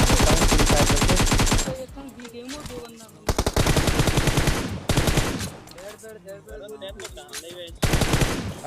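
Loud automatic gunfire from PUBG Mobile (BGMI) gameplay in a solo-versus-squad match, with dense rapid bursts in several long volleys separated by short gaps where faint tonal game sounds remain.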